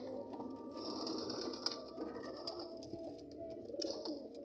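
Pigeons coo steadily and fairly close, their soft repeated calls overlapping over a constant background hiss, with no talking.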